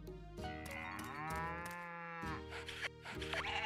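Cow mooing in the farming game Story of Seasons: Pioneers of Olive Town, a long, clear, drawn-out moo followed by a shorter second call, close and alone.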